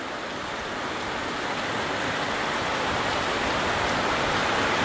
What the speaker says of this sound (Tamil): இப்படி மழை பெய்தோண்டால் ஒரு நாள்லேயே சரி ஊரே வெள்ளத்திலான் மிதக்கும் போலோட அப்படி மழை பெய்யுது.